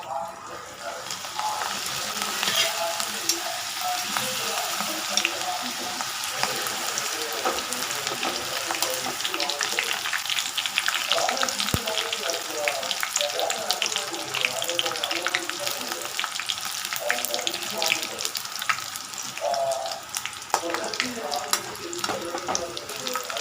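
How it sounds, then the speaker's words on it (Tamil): Steady crackling sizzle of food deep frying in hot oil, continuous and close, with faint clinks and a voice talking now and then in the background. "இப்போ நம்ம எண்ணெயில் பொரிக்க போகிறோங்க."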